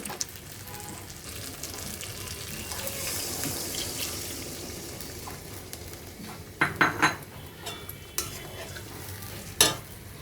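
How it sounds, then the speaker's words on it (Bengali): Water poured into a pan of pointed gourd korma as it cooks on the stove, a soft rushing hiss followed by a few sharp clinks of a utensil against the pot, with no talking. "এখন আমার হচ্ছে এতে জল অ্যাড করে দিতে হবে"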